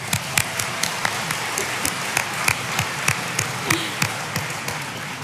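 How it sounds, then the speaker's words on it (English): An in-person audience at the SIGGRAPH 2022 Real-Time Live event applauds, with sparse individual claps sounding at a fairly regular rhythm over a low murmur of crowd noise. "Let's give a round of applause for that."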